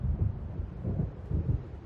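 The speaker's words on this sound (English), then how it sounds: "It seems there's a storm coming." Low rumbling thunder from an approaching storm in Alan Wake Remastered, rolling in a few deep swells, loud and continuous with no talk.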